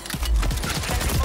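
Rapid automatic gunfire in the Warzone video game on Rebirth Island, a dense burst of close shots crackling continuously for about a second.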